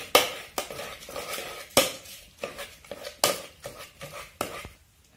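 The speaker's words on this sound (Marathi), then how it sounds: "तर गरम गरमच भाजी हटून घ्यावं लागती" Hot cooked safflower greens are stirred and mashed in a pan, with a spoon knocking and scraping against the metal in an irregular run of sharp clacks, close up and without any voice.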